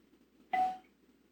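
A single small bell is struck once to open a church service, giving a clear ringing tone that decays quickly in a quiet room.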